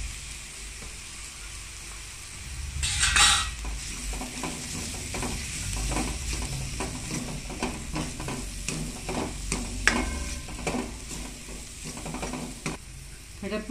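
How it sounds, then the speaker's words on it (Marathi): Spices for a sprouted moth bean curry fry in hot oil, with a continuous sizzle and repeated scraping stirring strokes close to the pan. "आता हे मसाले ते टाकून घेते"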